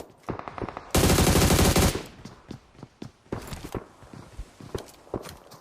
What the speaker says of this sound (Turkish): Abi silah seslerine bak.